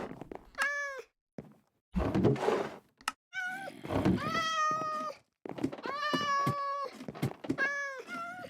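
Cats in the Minecraft video game meow repeatedly in a series of clear, tonal calls, with dull thunks and shuffling noises between them, loud and close with short gaps.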